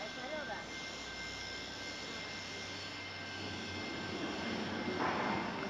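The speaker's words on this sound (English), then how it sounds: "This is the machine. Flying cutting with servo motor." A channel roll forming machine with a servo motor and flying cutting runs with a steady, loud mechanical drone and a faint whine, continuous throughout, with a voice faintly underneath.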